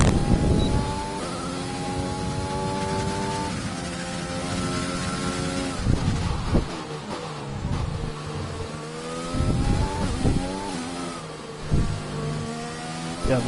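A Formula 1 car engine in F1 2020 screams through rising and falling revs, with sharp gear changes and drops in pitch under hard braking before it climbs again, loud and up close throughout.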